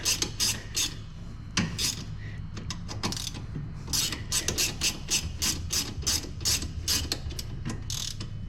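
Ratchet wrench unthreading long rear strut bolts on a 2009 Chevy Impala, with rapid bursts of clicking repeated over and over, close and moderately quiet.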